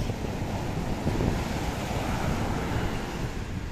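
Sea waves and gusting wind on the waterfront at Calpe, Alicante, form a steady, dense roar of surf with heavy wind buffeting the microphone and no voices.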